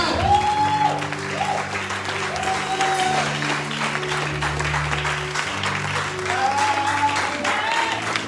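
A church congregation at a night worship vigil claps steadily throughout, the dense applause mixed with sustained voices and sung or shouted tones rising and falling above the clapping.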